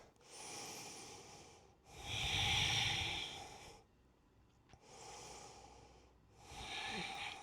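Slow, deep belly breaths taken during a reformer Pilates stretch, heard close as long airy inhales and exhales in a steady rhythm, separated by brief quiet pauses.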